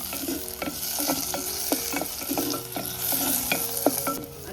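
Curry leaves hit a hot clay pot and crackle with a sharp sizzle, mixed with rhythmic scraping and stirring knocks during a Koli-style dried fish dish, no voices.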